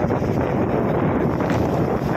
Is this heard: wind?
yes